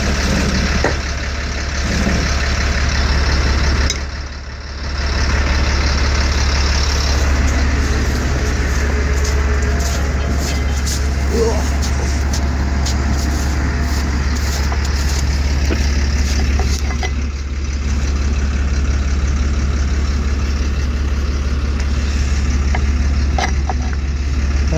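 A truck engine with dual exhaust idles steadily with a deep, constant low rumble, close and loud, dipping briefly once before settling back to its even drone.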